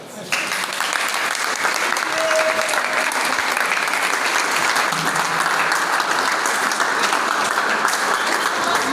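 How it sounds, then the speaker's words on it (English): A student audience applauds steadily and loudly for several seconds, a dense, continuous clapping with no pauses. "if I stand up to clap for them"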